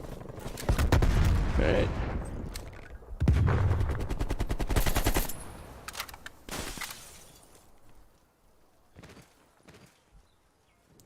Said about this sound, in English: A lot of empty gunfire.